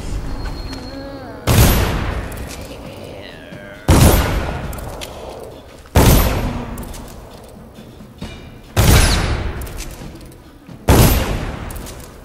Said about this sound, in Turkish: silahla vurmak istiyorum bunları